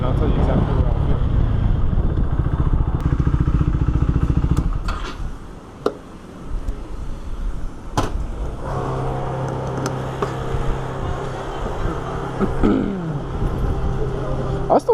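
A BMW F900XR motorcycle ridden on the road, its engine droning and revving with shifts in pitch and a brief drop-off, accompanied by steady wind rush and a rider talking over it.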